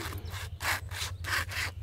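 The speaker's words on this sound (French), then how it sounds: "Vous voyez, ça scie vraiment le bois" A handmade survival frame saw, about 53 cm long, cutting through wood in steady back-and-forth strokes, each rasping pass rising and fading in a regular rhythm, close and fairly quiet over a low steady hum.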